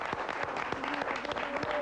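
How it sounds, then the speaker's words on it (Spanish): Audience applause in a 1994 Argentine Canal 9 television studio, a dense, steady patter of many hands clapping at moderate level for the whole stretch, with no voices over it. "¡Fuerte el aplauso!"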